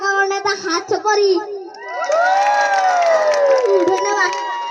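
A lively crowd at a fan meetup in Bongaigaon in 2022 cheers loudly, with high children's shouts and whoops rising and swelling together close by and little clear clapping.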